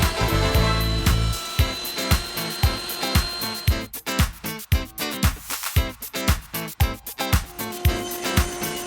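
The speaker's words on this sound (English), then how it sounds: "So I use a rabbiting bit at the router table to make this recess." A router table fitted with a rabbeting bit cuts a recess into wood: a continuous high motor whine broken by a rapid series of sharp, rhythmic cutting bursts, loud and close, with no talk.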